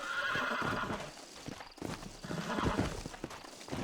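Horse in the video game Red Dead Redemption, a loud whinnying neigh over rapid clip-clopping hooves that continue in an uneven rhythm, close and prominent.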